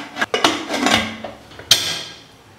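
A metal lid set onto a cooking pot in a home kitchen during Sunday vegetarian lunch preparation gives several close, sharp clanks and clatters in quick succession, ending with one bright ringing knock.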